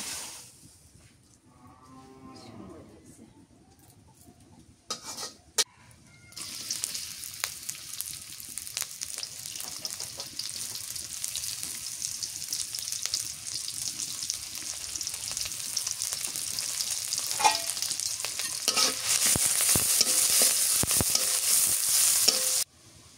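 River fish curry sautés in a pan, starting quiet and then giving way to a loud, continuous sizzle with stirring and scraping close by, growing stronger toward the end.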